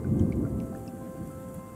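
Rain falls in the video game Terra Nil, a steady wash of rainfall with a heavier rumbling swell near the start that settles into an even patter.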